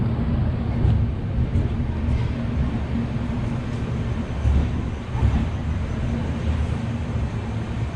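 Inside a moving train car bound for Puri, a constant loud low rumble and rattle of wheels on track rolls on with faint rhythmic thumps, no voices.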